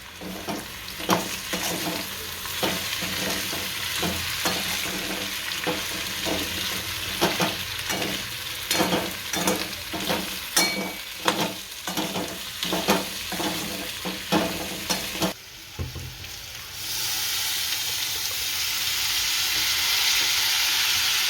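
A spoon scrapes and stirs potato slices with peanuts, turmeric, chili and salt in a sizzling pan, with steady rhythmic strokes over a constant frying hiss; after a short pause the hiss swells louder and smooth.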